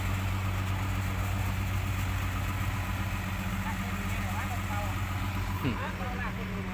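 A farm tractor stuck in mud, its front wheels spinning, gives off a steady low engine rumble with a droning hum throughout, with a voice talking over it.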